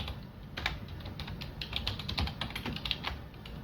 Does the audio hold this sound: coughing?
no